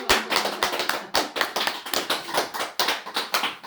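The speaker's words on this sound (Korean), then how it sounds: "그래서 제가 박수를 쳐드리겠습니다" A single person claps steadily, about three sharp, close hand claps each second, in a quiet room during a Buddhist dharma talk at a Korean temple. No one speaks over it.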